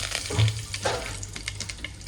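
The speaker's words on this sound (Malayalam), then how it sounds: "കടുക് കൊണ്ട് പൊട്ടി വരുന്ന സമയത്തൊന്ന് പൊട്ടിക്കഴിഞ്ഞാൽ കുറച്ച് കറിവേപ്പില എടുക്കുക" Mustard seeds spluttering in hot oil, a short burst of quick crackling pops over a low sizzle, close and fairly loud, with no talking.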